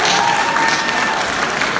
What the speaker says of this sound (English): big round of applause to our silver and bronze sponsors as well